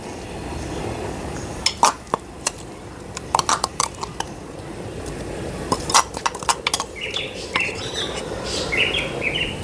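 A spoon stirs wild yam curry in a pot after ground coconut, cumin and chilli paste is added, giving scattered clinks and scrapes in bursts against a steady background hiss, with faint bird chirps outside.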